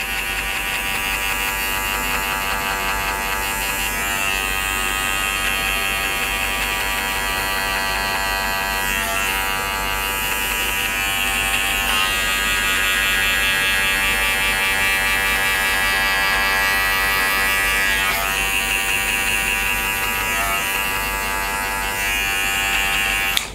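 Electric hair clipper with its blade fully closed buzzes steadily and loudly throughout while shaving off the skin line during a skin fade haircut, with no talking.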